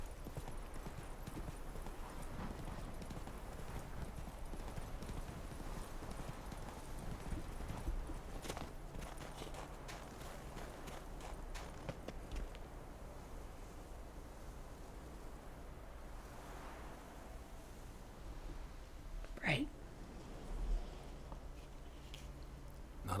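Roach, Geralt's horse in The Witcher 3, trots with a steady clip-clop of hooves over ambient outdoor game sound, with a brief snort or whinny near the end.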